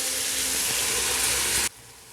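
Spices with coriander-cumin powder sizzle steadily in a hot pan for tomato rice, a dense continuous fry that cuts off abruptly near the end to a quieter hiss.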